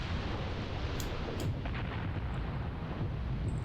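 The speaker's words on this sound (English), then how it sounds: "And yeah, that's my artillery." Artillery fire in the tactical war game Graviteam Tactics: deep rolling booms under a dense, continuous rumble, with a couple of sharper distant cracks in the middle and no voices.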